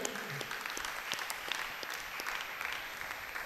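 A congregation in a church claps for women's welfare leaders during a special mass for new parish leaders; the applause is soft and somewhat distant, a steady, even wash of many hands.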